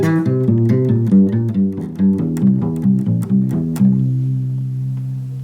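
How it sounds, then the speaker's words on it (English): A bass guitar plays a C dominant 7 arpeggio up and down the chord tones. About a dozen plucked notes fall in an even rhythm before a final sustained note rings out and fades, loud, close and alone. "In particular, we're going to do a C dominant 7."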